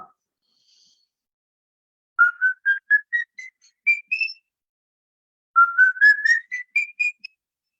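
A person whistles an imitation of a bird of prey's call: two clear series of rising, stepped notes separated by a pause, heard alone in quiet.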